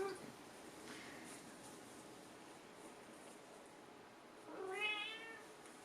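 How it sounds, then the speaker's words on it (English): A cat gives one clear, drawn-out meow near the end, after a faint earlier mew, against a quiet, hissy background. "That's my cat."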